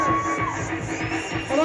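A crowd of parents at a school event cheers and shouts together, a dense, lively mix of voices and whoops with little distinct clapping.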